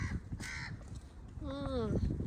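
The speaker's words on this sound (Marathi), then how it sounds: "कावळा जवळ आहे आमच्या इथं" Background chatter and noise, then a single harsh crow caw rings out nearby toward the end.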